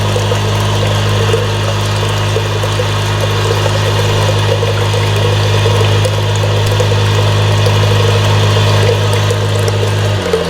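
An electric water pump motor, suspected faulty, runs on test: a loud, steady hum with a constant low drone and watery whir throughout, which shifts pitch slightly near the end. No voices.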